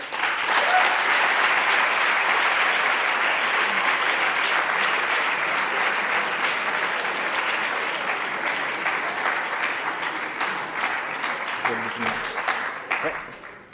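An audience applauds at an eloquence competition final, a long, even roar of clapping from a large crowd that holds steady and then thins out toward the close.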